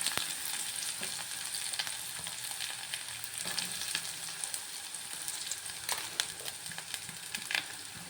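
Ginger, garlic and chopped onion frying in a pan, a steady bright sizzle with occasional sharp crackles and stirring clicks, close and continuous with no talking.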